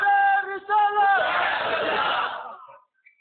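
A crowd at a religious gathering chants back a slogan in reply, a sustained, rising and falling mass of voices that swells loudly and then fades away.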